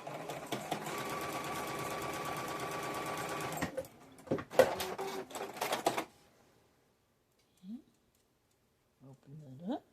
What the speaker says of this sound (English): So let me sew these together.